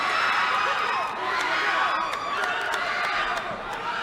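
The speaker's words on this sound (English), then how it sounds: "I don't know who they're cheering for like that." A crowd cheers and shouts at a fight event, a busy, roaring mix of yells and whoops that rises and falls without pause, with sharp shouts cutting through.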